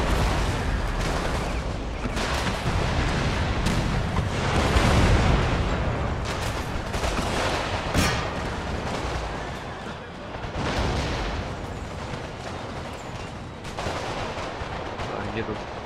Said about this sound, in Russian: Огонь пушки.